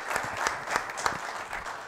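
Audience applause at a spoken talk, a steady patter of many hands clapping close by for the whole moment, moderately loud with no voices.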